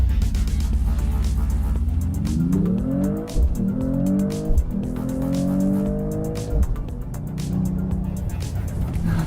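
A Mercedes-AMG E 53 Hybrid 4MATIC+ launches in race start mode, its engine note climbing through rising, stepped tones over a steady low rumble as it accelerates hard for several seconds, loud and close.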